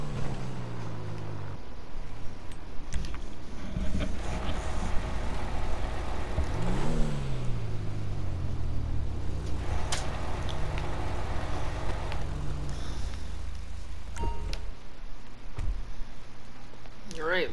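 A Dundreary Landstalker XL SUV engine in GTA 5 drives into a garage, a steady mid-range motor hum with rising rev sweeps and shifting tones, heard throughout under ongoing talk.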